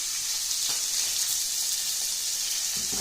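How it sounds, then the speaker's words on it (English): Pepper sauce for a T-bone steak bubbling and sizzling in a pan as it comes to a boil, a steady close hiss with soft pops throughout, no talking. "It comes to a boil."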